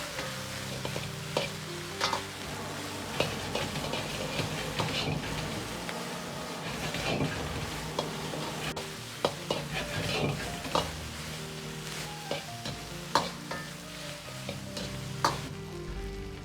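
Pork knuckle stir-fried in caramelized rock sugar in a wok over medium-low heat, a loud constant sizzle broken by repeated scraping and clanking stirs at an irregular rhythm, with faint background music.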